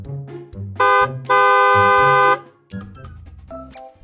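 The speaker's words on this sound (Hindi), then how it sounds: "गुस्से में हॉर्न बजाने लगा। P P P P P." A car horn honks loudly: a short toot followed by a longer sustained blast, then quieter sounds trail off.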